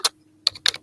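A few quick keystrokes on a computer keyboard, close and fairly loud, arriving in three short bursts separated by silence.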